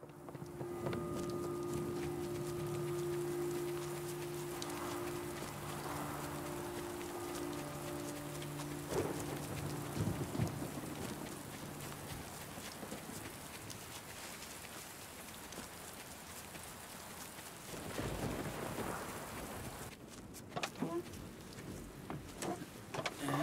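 Rain in the video game Last Day of June, a steady hiss of drops falling on surfaces that runs throughout, with a few low tones early on and some brief louder thumps toward the end.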